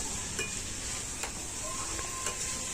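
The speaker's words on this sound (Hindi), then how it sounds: "और ये डाल दिए मैंने चुकंदर के पत्ते, और इसको हिला लूँगी, ऐसे ही हिलाते हिलाते पक जाता है।" Beetroot leaves fry in a pan while being stirred, giving a steady soft sizzle with a few light scrapes and clinks of the spoon, fairly quiet and without talk.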